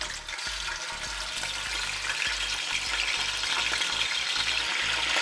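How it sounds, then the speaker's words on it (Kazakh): Large chunks of meat sizzling as they drop into hot oil, a continuous crackling fry with bursts of spattering and occasional stirring knocks underneath, close and fairly quiet. "Майымыз қызды, оған ірі күйінде мұндағы еттерімізді сала қоямыз"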